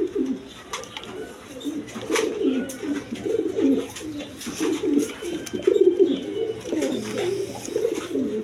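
A male pigeon of a quality breed coos repeatedly in a steady, throaty rhythm close by at a pigeon seller's loft, with faint background noise and no talk.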